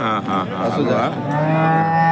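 A cow at a cattle market gives a long, loud, drawn-out moo up close, its low tone wavering and then holding steady to the end.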